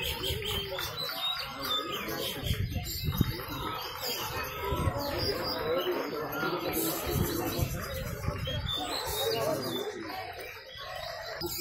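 Many caged songbirds sing at once at a crowded bird singing contest, among them white-rumped shamas, magpie robins, orange-headed thrushes and starlings, a dense, loud, overlapping chorus of chirps and trills with people talking in the background.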